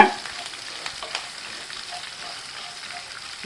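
Green and dried chillies stir-fried in a pan for tomato rice give a steady, close hiss of sizzling oil, with a few soft scraping stirs and light pops throughout.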